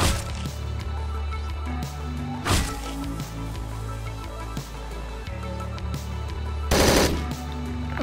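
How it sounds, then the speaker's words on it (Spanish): Rapid automatic gunfire from the top-down shooter Hotline Miami 2: Wrong Number, loud and sustained over a steady game soundtrack, with sharp bursts of shots and a few heavier blasts standing out. "no sé de dónde me vienen los disparos"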